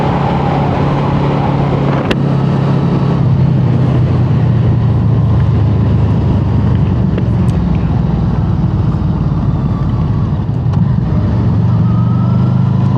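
Motorcycle cruising on an open road, captured on a DJI Osmo Action 5 Pro, with a steady low engine drone blended with constant rushing wind noise, loud and unbroken.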